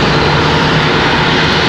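Airbus A321 jet inbound from Cancun, Mexico, at Charlotte airport: a loud, steady broadband engine roar with a low rumble, close and continuous throughout, no voices.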